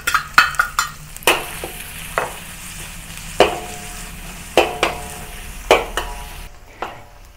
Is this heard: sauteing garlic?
yes